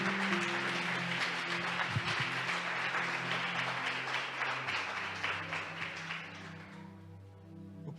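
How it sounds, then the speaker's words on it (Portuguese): Congregation applauding in a church service, dense clapping sustained over a steady musical drone from an organ or keyboard, tapering off near the end as the music carries on. "Será que alguém pode aplaudir o Senhor?"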